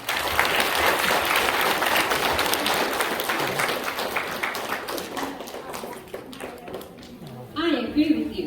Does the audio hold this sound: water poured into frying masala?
no